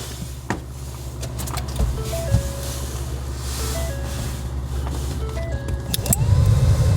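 The blower motor of a 2008-2012 Ford Escape runs with a steady low hum and whir, steady from start to end, with occasional clicks and small rattles nearby and no talking.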